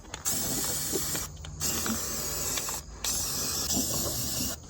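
Rust-Oleum Rust Reformer spray paint hissing onto a steel tow hitch receiver for a Chevy Express, in several separate bursts with brief pauses between them, up close and moderately quiet.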